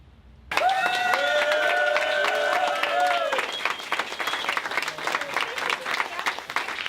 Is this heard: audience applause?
yes